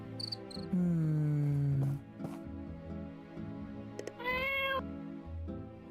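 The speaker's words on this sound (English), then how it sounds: "That is the weirdest sound for the cat." A cat in the farming game My Time at Portia lets out two odd meows, a long low drawn-out call followed by a shorter higher one, over a steady cricket-like background chirping and soft music.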